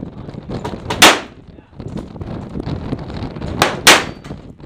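Two sharp pistol shots ring out at an outdoor shooting range, spaced about three seconds apart, loud and close over a steady background murmur.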